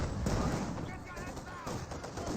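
Half-track machine gun fire from Company of Heroes 2 rattles in a steady, dense stream of bursts, with battlefield noise and a voice talking over it throughout.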